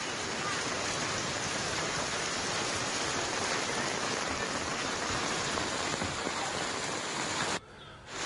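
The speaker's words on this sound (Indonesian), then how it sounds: "hujan es juga dilaporkan turun di kawasan Jati Padang dan Fatmawati, Jakarta Selatan" Hail and rain pouring down in South Jakarta, a dense unbroken roar of falling water and ice that stays steady and loud throughout before briefly dropping away near the end.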